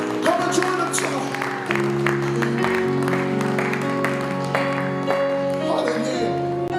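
Crowd clapping hands at a Samoan youth crusade night, rhythmic applause under music and a speaker talking over it.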